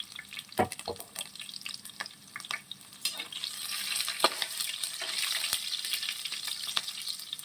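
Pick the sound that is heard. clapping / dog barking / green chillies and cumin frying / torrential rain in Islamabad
green chillies and cumin frying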